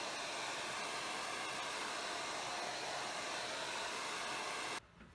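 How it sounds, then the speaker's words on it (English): Hair dryer blowing a steady, loud broadband whoosh while drying acrylic paint on a canvas, running continuously for nearly five seconds before cutting off abruptly. "I'll dry that with a dryer and then I'll be back"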